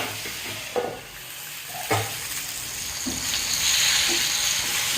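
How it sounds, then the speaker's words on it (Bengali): Onion and tomato fry in a pan for a homemade soybean mince dish, giving a steady sizzling hiss with a few soft stirring scrapes and spatula knocks, close and moderately loud, with no voices. "এটা মোটামুটি ভাজা হয়ে গেছে"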